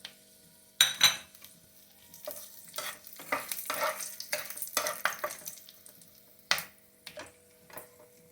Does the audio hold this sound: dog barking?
no